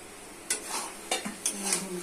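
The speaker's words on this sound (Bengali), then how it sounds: "মশলার সঙ্গে ভালো করে কষে দিতে হবে।" Potatoes are being stir-fried with spices in a pan, with a few sharp scraping strokes of the spatula over a soft, low sizzle, heard up close.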